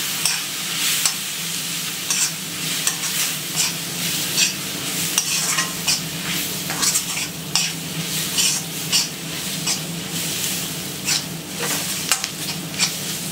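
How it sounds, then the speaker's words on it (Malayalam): Masala with coriander powder is stirred in a pan while frying for crab masala, a loud, continuous sizzle broken by repeated rhythmic spatula scrapes against the pan, with no talking. "ഇനി നമുക്ക് നന്നായിട്ട് കളക്കി കൊടുക്കാം."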